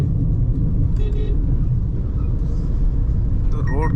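Honda CR-V rolling over a rough, broken, potholed road, a dense continuous low rumble of tyres and cabin noise with a brief horn toot from traffic and a voice talking underneath.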